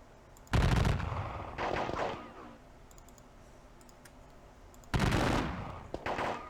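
Musket and cannon fire in the Tiller Games American Civil War game Battle of Cassville: two close, loud clattering bursts a few seconds apart, each a quick cluster of sharp reports, with a quiet low ambience between them.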